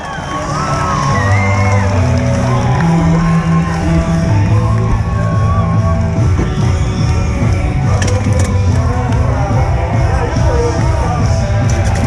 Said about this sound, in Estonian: Veel kord üks vägev aplaus kolmele paremale